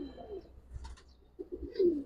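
Domestic pigeons coo softly in a low, warbling murmur, a few short phrases close by with a louder final coo, amid faint background noise and no talking.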